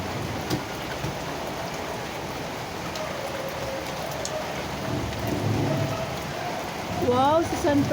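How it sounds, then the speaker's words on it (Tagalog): A summer downpour drums steadily and closely on surfaces, a dense even patter with a low rumble under it, and voices come through briefly near the end. "Rain, rain, go away."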